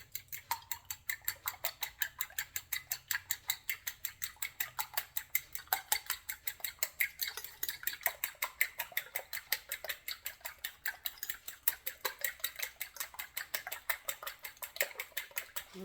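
Eggs being beaten in a bowl for fried rice, heard as quick, even clinking taps of a utensil against the bowl, about four per second, faint but steady throughout.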